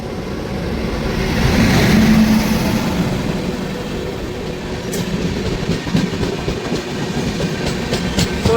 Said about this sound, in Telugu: సో ఇది వచ్చి చెప్పాను కదా, ధన్బాద్ ఎక్స్ప్రెస్.